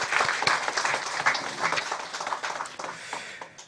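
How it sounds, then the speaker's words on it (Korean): A church congregation applauds warmly for a few seconds, the clapping dense at first and then thinning out as it fades. "우리 격려 박수 한번 하겠습니다"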